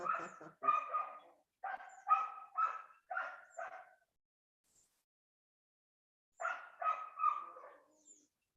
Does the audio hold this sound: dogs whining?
yes